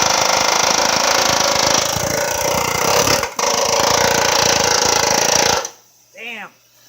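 A planishing hammer works dents out of a 1937 Chrysler Imperial Roadster body panel, making a dense, loud, continuous rapid hammering with air hiss that stops abruptly near the end, followed by a brief voice.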